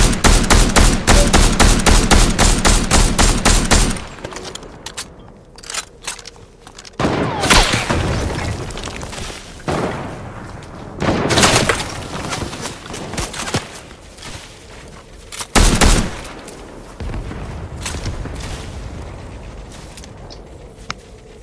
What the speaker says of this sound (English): I just need one sniper bullet to hit and the rest are hitting.